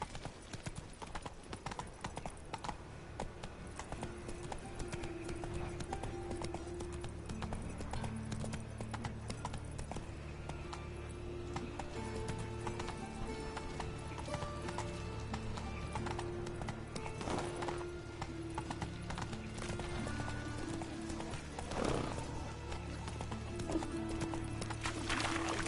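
Roach the horse in The Witcher 3 video game, hooves clip-clopping in a steady galloping rhythm with an occasional neigh, layered over continuous game music and ambience.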